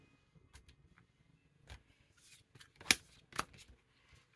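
A deck of oversized playing cards is shuffled by hand, giving a few soft riffling bursts and brief card flicks with quiet gaps between them.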